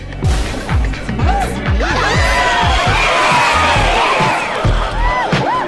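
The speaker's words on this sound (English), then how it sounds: "You will see and hear people cheer for you when you land a move" Crowd cheering and whooping in the casino-themed video game This is Vegas, a dense, continuous wash of excited voices and shouts with rhythmic low thumps of music running underneath throughout.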